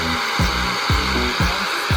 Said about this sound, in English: Press the start button. Press and hold the middle button to fix the speed.